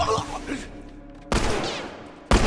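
Gunfire in The Last of Us Remastered, two sharp, loud shots with long ringing tails, spaced about a second apart, bursting out of a quieter stretch of game ambience.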